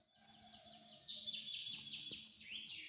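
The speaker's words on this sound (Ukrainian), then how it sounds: "Пташки заливаються, співають." Birds singing continuously in a quiet forest, high trilling and chirping calls overlapping, fairly close and clear with no talking.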